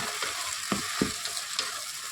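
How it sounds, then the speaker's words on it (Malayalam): Crushed ginger and garlic sauté in a hot pan with a loud, constant sizzle and a few sharp spatula scrapes and knocks over about two seconds. "ഇഞ്ചി ചതച്ചതാണ് ഇത് മൂന്നോട്ട് നല്ലവണ്ണം ഒന്ന് വഴറ്റെടുക്കുക"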